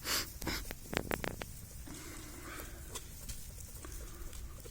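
Ala tumbler pigeons kept as breeding birds in a yard coop, heard as a few close coos and wing flaps over low outdoor background noise, with no voices.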